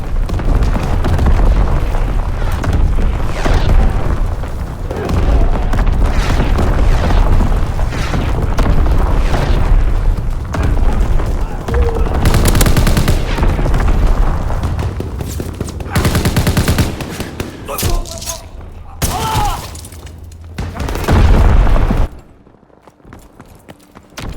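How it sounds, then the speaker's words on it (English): Call of Duty WW2 team deathmatch on Xbox One X: loud, dense battlefield din of gunfire bursts and heavy booming explosions from enemy artillery, continuous for most of the stretch before dropping off abruptly near the end. "Incoming enemy artillery. Get to cover."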